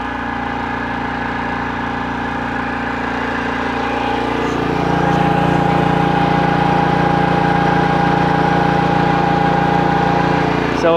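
A Permagreen ride-on spreader sprayer's engine runs steadily at close range, rising slightly in pitch and load around the middle as the sprayer engages, then holding a loud, even drone.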